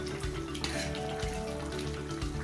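Chicken gravy with onions simmering in a cooking pot is stirred, giving a steady bubbling sizzle with soft scraping and wet sloshing throughout, close and moderately loud.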